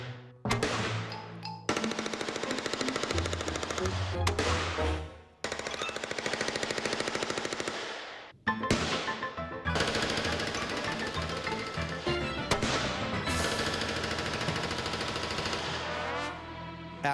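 Sustained gunfire pours through a floor in long continuous bursts, with shotgun blasts mixed in, loud and close with only brief pauses between strings of rapid shots.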